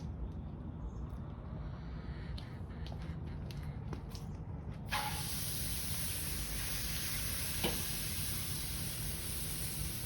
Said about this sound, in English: And we'll just sear this just to get some nice flavor on it